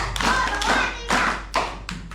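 Children at a Ramadan iftar gathering play a rhythmic clapping warm-up, producing several separate bursts of hand claps and taps with short gaps between them, close and fairly loud.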